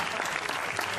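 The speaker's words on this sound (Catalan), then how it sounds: "sisplau, un aplaudiment, sisplau." A community audience applauds the founders at a diversity festival forum, dense steady clapping filling the room at close range, loud and continuous with no gaps.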